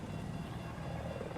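Helicopter rotor and engine drone in the Battlefield 4 video game during an 8v8 Conquest match, a steady, fairly loud low chopping rumble filling the whole moment with no voices.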